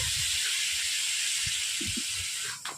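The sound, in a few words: water added to hot pan of frying cauliflower and potatoes, sizzling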